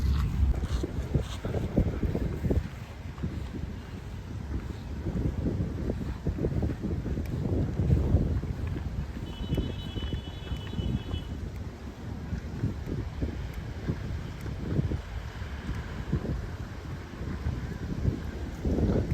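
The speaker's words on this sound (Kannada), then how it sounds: "ವಿಂಡ್ ಜಾಸ್ತಿ ಉಂಟು" Steady, strong wind roars and buffets the microphone throughout, with gusty low rumbling and no voices.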